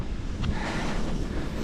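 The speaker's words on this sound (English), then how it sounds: "I'm sure you guys can hear. It's windy and cold." Cold wind blows outdoors at a solar irrigation setup, a steady loud rush buffeting the microphone throughout with no break and no speech.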